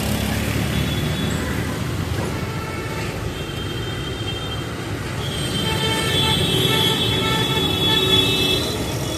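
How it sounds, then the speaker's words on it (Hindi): Busy city road traffic at an open signal near Ellis Bridge police station in Ahmedabad, a steady dense roar of engines with horns tooting now and then, close and continuous throughout. "सिग्नल खुला है तो ट्रैफिक बहुत है।"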